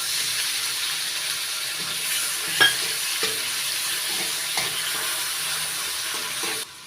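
Ground tomato paste goes into a hot frying pan of curry base with ginger paste, hissing and sizzling steadily while a spoon stirs and scrapes with a few sharp knocks, close and loud, no talking.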